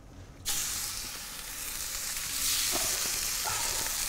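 Salmon hits a hot metal plancha with a sudden loud sizzle, then keeps up a steady crackling fry, with faint clinks of utensils.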